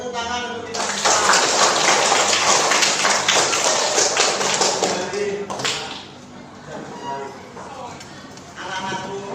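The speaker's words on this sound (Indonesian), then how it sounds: "Tepuk tangan untuk kita semua" A class of schoolchildren bursts into dense, loud clapping after a short spoken count. The clapping fades after about five seconds, and a voice talks before and after it.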